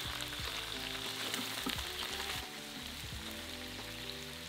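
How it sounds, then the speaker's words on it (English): Diced onion frying alongside seared beef short ribs, a steady, close hiss of sizzling fat that runs evenly throughout, with a few light scraping knocks as the pan contents are stirred. "add in a diced onion and cook for a further 2 minutes while stirring"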